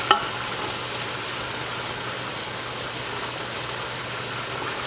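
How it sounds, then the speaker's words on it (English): Onions dropped into melted butter in a soup pot sweat with a steady, soft sizzle that holds evenly throughout, after a brief clatter at the start; no one talks over it. "So we're going to put half of our onions in here."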